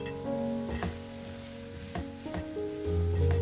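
Potato and egg omelette mixture with black pepper and salt sizzling in a pan while being stirred, a steady frying crackle broken by several sharp utensil knocks and scrapes.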